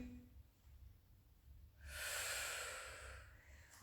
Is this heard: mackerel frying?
no